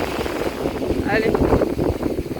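Wind gusting and buffeting outdoors on a cold walk, a steady rushing roar with microphone wind noise throughout, while a person talks over it.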